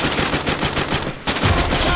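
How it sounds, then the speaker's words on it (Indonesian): Shotgun firing in the Free Fire video game, a rapid burst of loud gunshots followed by a short lull and then more dense, loud shooting. "Ah, shotgunnya cuy. Nah ini dia shotgunnya guys."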